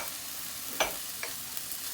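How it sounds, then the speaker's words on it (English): Minced garlic frying with peppers in a hot pan, a constant close sizzle broken by a couple of quick stirring scrapes. "And we're going to go ahead and get our minced garlic in there."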